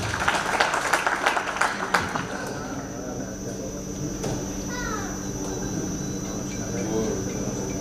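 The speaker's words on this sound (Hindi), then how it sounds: "इसी खुशी में आप लोग अपने लिए जरा तालियां बजा दीजिए।" Guests at a cosmetics shop grand opening in Peshawar clap loudly for a few seconds. The applause then fades into a hum and scattered voices from the crowd.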